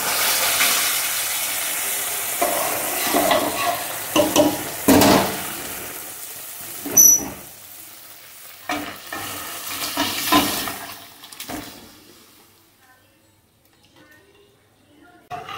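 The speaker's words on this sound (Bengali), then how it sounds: "ডালটাকে মিশিয়ে নেব" A spoon stirs boiled banana and dal into a fried spice paste in a pan, with repeated wet scraping and sloshing strokes, mostly close and moderately loud, fading near the end.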